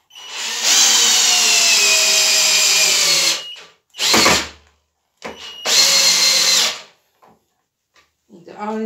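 A Graphite Energy+ 58G010 cordless impact drill drives a screw in two long whining bursts, close and loud, with short sharp knocks and a brief voice in the pauses.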